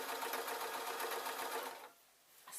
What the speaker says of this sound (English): sew around the entirety of the skirt with the waistband pointing downwards